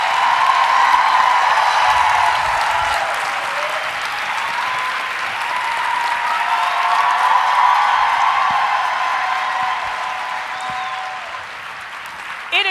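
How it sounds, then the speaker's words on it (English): An audience at an evening gathering gives a long, loud, sustained round of applause, dense clapping that holds steady with light cheering throughout. "Can you give it to me by a round of applause?"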